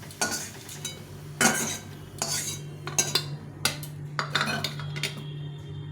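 A utensil stirs onion and garlic frying in a pan, giving repeated clinks and scrapes against the metal in irregular bursts over a faint low sizzle, close by.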